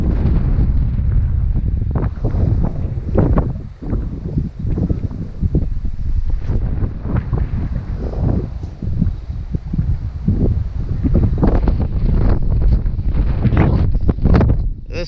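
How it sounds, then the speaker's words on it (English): Strong wind buffets across an open farm paddock, a loud, continuous roar with heavy gusty rumbling against the microphone throughout. "This wind doesn't help things."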